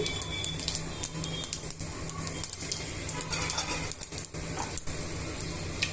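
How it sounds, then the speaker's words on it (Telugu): Cumin, chana dal and urad dal frying in a pan, a soft steady sizzle with a scatter of small crackles and pops, fairly faint and even, with no talking. "కొంచెం మినపప్పుని కూడా యాడ్ చేసుకున్న తర్వాత ఇవన్నీ వేయించేసుకోవాలండి"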